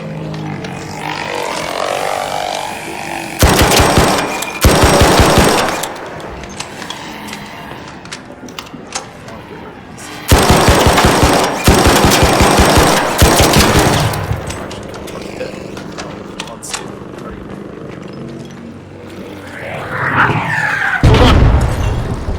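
Gunfire in the video game Arc Raiders comes in several loud, dense bursts of rapid shots, the longest running a few seconds, with quieter game sounds and mechanical clatter in the gaps.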